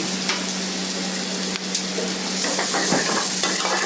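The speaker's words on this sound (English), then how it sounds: "on the pan goes in first the chopped onions, in goes chopped tomatoes, some green chili" Chopped onions, tomatoes and green chili sauté in a hot pan for a Goan curry, sizzling loudly and steadily with intermittent stirring scrapes toward the end.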